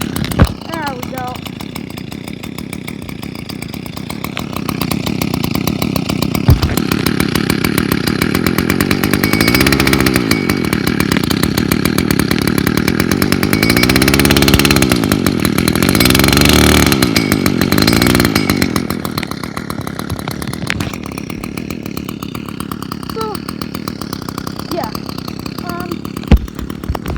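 A gas-powered string trimmer engine runs steadily after starting, a loud buzzing drone that rises and holds through the middle before easing back toward idle, with a person talking briefly at the start.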